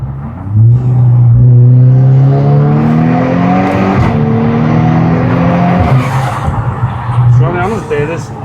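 A Volkswagen Golf R engine revs up and accelerates loudly, its pitch climbing through gears with brief dips between shifts, close and continuous.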